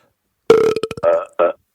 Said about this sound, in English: maybe we could both belch together on the count of 3